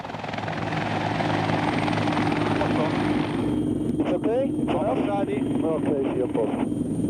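A helicopter flies overhead on a recovery mission to a glacier collapse site in northern Italy, its rotor drone loud and continuous, with a voice talking over it in the second half.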